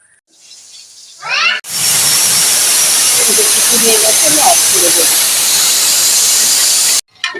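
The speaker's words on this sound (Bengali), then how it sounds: "তিনটে সিটি মেরে নিয়েছি" A pressure cooker with mutton inside lets off a loud, sustained blast of hissing steam for several seconds with a faint whistling edge, then cuts off sharply. A brief rising tone sounds just before the blast.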